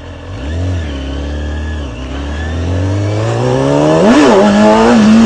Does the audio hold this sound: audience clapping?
no